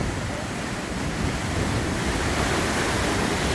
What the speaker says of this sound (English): This is the whole stretch of the rapid that we are portaging because of that mean waterfall